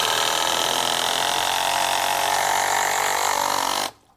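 A Hikoki hydraulic impact driver drives a screw with a steady, smooth, muffled whirring hum, close and fairly loud, then cuts off abruptly near the end; no voices.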